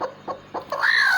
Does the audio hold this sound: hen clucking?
yes